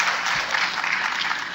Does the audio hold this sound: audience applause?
yes